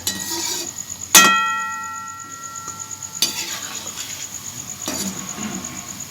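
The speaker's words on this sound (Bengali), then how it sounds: "এই তালের বড়াগুলো একটু অল্প আঁচে ভাজতে হবে" Palm fritters fry in oil over low heat with a soft, quiet sizzle, broken by a few sharp metallic clinks of a utensil against the pan, one ringing out clearly near the start.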